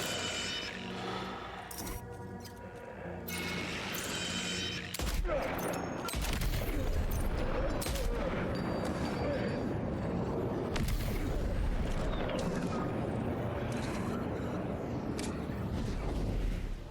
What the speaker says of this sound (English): We'll snipe out his friends meanwhile.